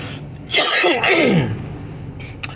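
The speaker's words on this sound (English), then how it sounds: "I came from just being sick, and I have this stupid-ass cough." Two harsh, raspy throat-clearing coughs in quick succession, close and fairly loud, followed by quiet.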